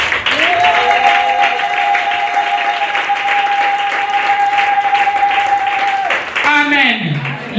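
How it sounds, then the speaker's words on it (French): A church congregation applauds loudly and steadily, with sustained voices and tones carrying over the clapping that fills the whole stretch. "Acclame Jésus."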